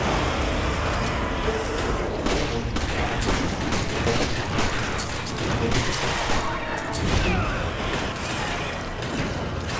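Rapid gunfire from shooting an enemy in the video game Resident Evil 5, dense bursts of shots cracking continuously through the whole stretch over a busy, noisy game mix.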